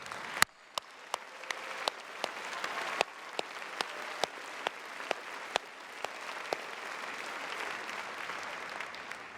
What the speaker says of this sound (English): Let's give a round of applause in appreciation for their unwavering support.